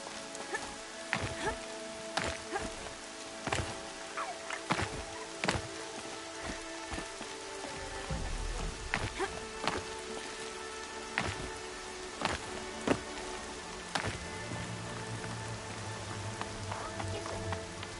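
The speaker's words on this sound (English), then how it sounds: "Rain. My boots will get damp." Rain falling in the video game Horizon Zero Dawn, a soft steady patter with scattered sharper drops and occasional low rumbles, fairly quiet throughout.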